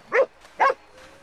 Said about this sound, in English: Yeah, back off, dog.